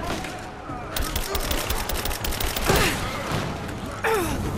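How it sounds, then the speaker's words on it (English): Gunfire crackles in the Rise of the Tomb Raider video game as enemies shoot at each other, with rapid rattling bursts and sharper shots over constant game noise and a few grunts. "these guys, they are shooting each other"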